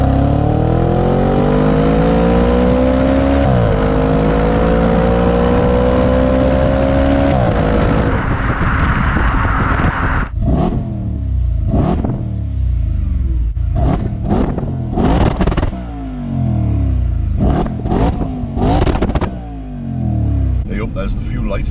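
An Audi RS5 V8 in dynamic mode with its exhaust valves open revs hard, rising engine tone giving way to a rapid series of sharp throttle blips and crackles, loud and close, as people talk over it.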